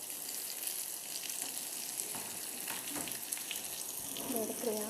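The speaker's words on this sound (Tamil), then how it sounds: "நல்லா டீப் ஃப்ரை ஆகிட்டு ஸ்லோலியே இருக்கட்டும்." Pieces of elephant foot yam (karunai kizhangu) deep fry in oil with a dense, continuous sizzle heard up close. A faint voice comes in briefly near the end.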